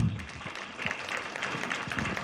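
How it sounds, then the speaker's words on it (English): An education summit audience claps together in a short, steady round of applause, full and even with a slight swell, heard from within the hall and without talk. "So do you have the motivation to clap?"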